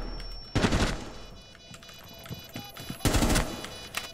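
Gunfire in Rainbow Six Siege, two loud bursts of rapid shots about two and a half seconds apart, each a dense volley over quieter in-game ambience.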